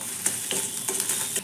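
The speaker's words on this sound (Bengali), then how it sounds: "ডিমটা ভাজা হয়ে গেছে, পাস্তাগুলো দিয়ে দেবো" An egg fries in a little oil for village-style egg pasta, giving a steady close sizzle with bright crackling spatters and a few scraping stirs of a utensil against the pan.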